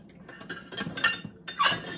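Hand rummaging through metal cutlery in a kitchen for a big spoon, several bright clinks and rattles of spoons and utensils knocking together in short irregular bursts, close by.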